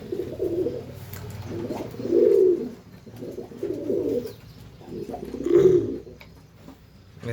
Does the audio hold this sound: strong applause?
no